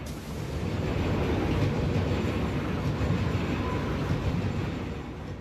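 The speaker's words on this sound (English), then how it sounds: "There's like an audio glitch in the train noise." A train rolls along rails in the Satisfactory video game, a steady low rumble with faint rhythmic clatter that swells slightly and holds, loud and continuous with no voices.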